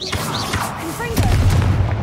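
Confringo explosion spell in Hogwarts Legacy, a deep booming blast with rumbling low end surging after a whooshing cast, amid game effects and a voice speaking just before.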